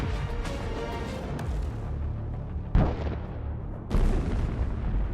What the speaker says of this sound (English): There is a very strong explosion, and the target is burned to the ground.